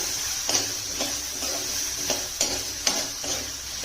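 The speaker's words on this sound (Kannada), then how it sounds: "ನಾನು ಯಾವುದನ್ನು ಬೇಯಿಸ್ಕೊಂಡಿಲ್ಲ, ಒಗ್ಗರಣೆನೇ ಬೇಯಿಸ್ಕೊತೀನಿ" Peas, potato, beans and carrot fry in a tempering for tawa pulao, a steady sizzle broken by regular scraping stir strokes close by.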